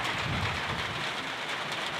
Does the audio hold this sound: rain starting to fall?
yes